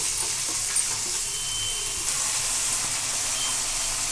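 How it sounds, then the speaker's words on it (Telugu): Peanuts frying in a pan with tomato while cooking semiya upma, giving a steady close sizzle and hiss throughout with faint stirring clicks. "పల్లీలు, ఇవి కాస్త వేగనివ్వాలి."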